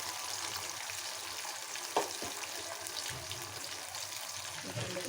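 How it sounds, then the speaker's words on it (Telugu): Taro pieces shallow fry in a little oil in a pan. A steady close sizzle runs throughout, with a faint clink partway through and no talking. "ఒక్కొక్కటి ఇలా కొంచెం ఆయిల్ వేసుకొని లైట్గా వేయించేసుకోండి."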